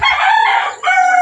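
A purchased rooster crows loudly up close, one full cock-a-doodle-doo in two clear phrases with a short dip between them.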